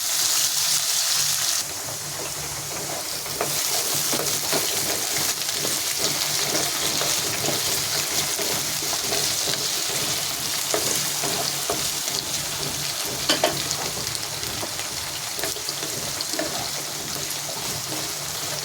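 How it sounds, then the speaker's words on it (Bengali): Spicy chorchori vegetables sizzle and fry in a pan while being stirred, a steady close crackling hiss with occasional scraping, no voices. "এবার একটু নাড়াচাড়া করবো। এখানে ঝাল ঝাল হবে চচ্চড়িটা।"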